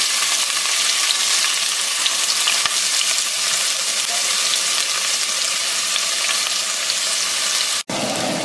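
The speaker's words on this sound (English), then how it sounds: "I'm just going to sweat that down." Garlic cloves and carrot sticks sweat in a pan with a steady, close, even sizzle. It holds for about eight seconds and then cuts out abruptly.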